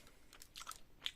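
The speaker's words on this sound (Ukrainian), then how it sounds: "Після всього жуємо жуйку" Chewing gum being worked in the mouth after a Spanish 24-hour individual ration meal, heard as a few soft, close, wet smacking chews spread over about a second, alone without talk.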